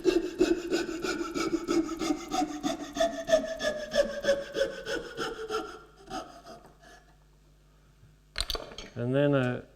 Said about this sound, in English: you could just use a coping saw to cut the bulk of this round